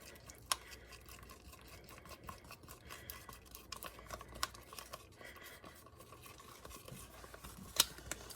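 Pink cookie icing is stirred and scraped in a bowl with quiet, irregular clicks and taps, plus a sharper knock near the end. No voices are heard.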